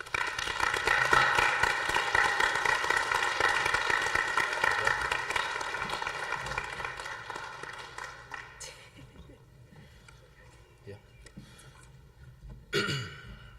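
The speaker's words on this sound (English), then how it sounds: "Please give them a round of applause." Sustained applause from a crowd at a community college event fades gradually over several seconds, ending in scattered sounds and a brief noise near the end.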